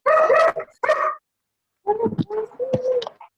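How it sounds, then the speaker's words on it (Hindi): A dog barks in short bursts, two sharp yaps then a longer run of barks after a pause, fairly close and loud during a home class setting. "किसके घर कुत्ता भौंक रहा है?"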